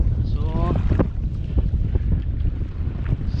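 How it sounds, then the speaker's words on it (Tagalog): Strong wind buffets the microphone on a fishing boat at sea off the Palawan islands, a steady low roar with water movement, while a voice speaks briefly near the start. "medyo malakas yung hangin, malakas yung current."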